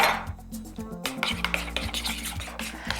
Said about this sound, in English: Then a 1/2 cup of light processed cheese. And then stir that together.